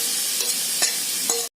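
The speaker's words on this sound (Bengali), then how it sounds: "ম্যারিনেটেড চিকেনটাকে এর মধ্যে আমি দিয়ে দিলাম।" Marinated chicken sizzles in ginger garlic paste in a pan, a dense, continuous frying hiss with soft stirring knocks that cuts off abruptly near the end.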